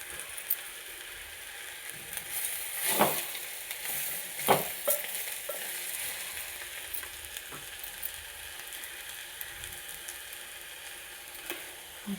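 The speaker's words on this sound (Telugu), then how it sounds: "ఇప్పుడంటే వంకాయ ముక్కలు వేస్తున్నాను." Eggplant pieces fry with onions in a pan, a low steady sizzle with a few louder stirring clatters and scrapes scattered through.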